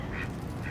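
A duck on a beach gives two short quacks, close by and fairly loud over a steady outdoor background.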